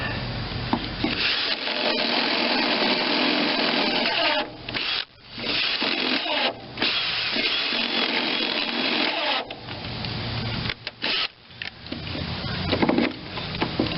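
A drill grinds against a broken-off bolt while a Vermeer BC625A brush chipper is being repaired. The harsh, steady grinding runs for most of the clip with a few short breaks, loud and close.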